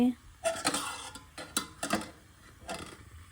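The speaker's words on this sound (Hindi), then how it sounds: "तो या पहले इसको मैं सेट कर रही हूँ चूल्हे पे।" A pot of beetroot set down on a kitchen stove, with several light metallic clinks and knocks of the pot against the burner grate, close and fairly quiet.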